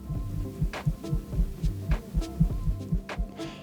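Foam pool noodle swung in circles by children, producing a steady series of low throbbing whooshes, roughly two pulses per second, moderately loud and continuous with no talking.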